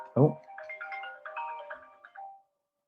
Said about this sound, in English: my phone just called and it came on it's connected to my laptop